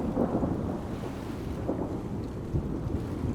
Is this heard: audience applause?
no